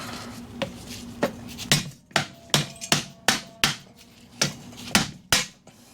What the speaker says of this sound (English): It does not fit, but that's what hammers are for.